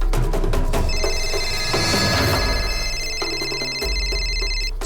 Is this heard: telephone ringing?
yes